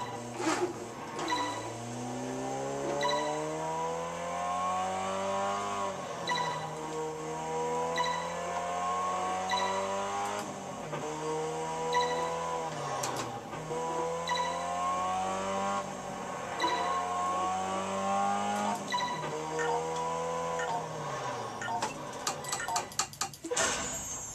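A car in the racing video game Test Drive Unlimited 2 drives through a driving school exercise, its engine droning steadily with repeated rises in pitch and drops as it shifts gears, over faint regular ticking.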